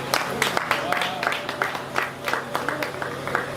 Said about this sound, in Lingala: Est-ce qu'on peut applaudir un peu pour Moïndo?